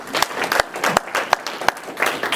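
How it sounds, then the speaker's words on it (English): A small audience claps for a participant during a sales-training session, with a few distinct, fairly regular claps standing out from a light, uneven round of applause. "Let's give her a round of applause for that."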